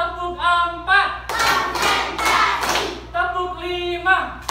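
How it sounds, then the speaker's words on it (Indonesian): Group of people clapping hands in a counted rhythm, broad bursts of claps alternating with a sustained tonal sound, fairly loud and close. "Tepuk 1, tepuk 2, tepuk 3, tepuk 4,"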